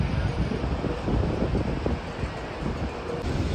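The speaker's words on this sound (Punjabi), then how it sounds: "ਹਵਾ ਚੱਲਦੀ ਆ ਪੂਰੀ ਠੰਡੀ ਠੰਡੀ" A steady roar of cold mountain wind blows across the microphone, constant and fairly loud, with low rumbling gusts and no talking.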